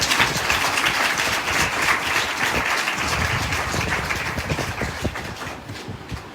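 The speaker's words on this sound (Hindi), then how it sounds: "ऐसी संस्था के लिए जोरदार हाथ से ताली बजाएंगे" An audience applauds an NGO at a church gathering with loud, sustained clapping from many hands. The sound is dense and continuous, easing slightly toward the end, and no voices are heard.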